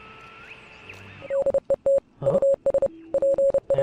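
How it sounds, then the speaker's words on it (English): A radio in the video game Oxenfree beeps Morse code as a rapid series of short and long steady tones. Before it a wavering, gliding static drone plays and then fades out. "There's that Morse code again."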